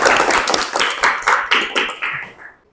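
A classroom of students claps together in a quick rhythmic pattern of about eight strong bursts, loud and close, fading out at the end with no talking.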